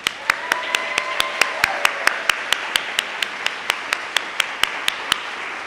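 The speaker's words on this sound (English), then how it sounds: "let's give one last round of applause to our graduates" Graduates at a graduation celebration are applauded by a crowd whose clapping forms a steady wash, while one nearby pair of hands claps sharply in a regular beat above it.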